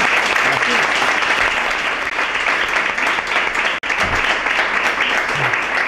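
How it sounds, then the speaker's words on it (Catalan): A warm round of applause for the author at the presentation of the poetry book Pa de Dolor: dense, steady clapping from a seated audience, close and loud for the whole stretch, with a brief dip near the end and a few voices mixed in. "Un aplaudiment per a l'autor."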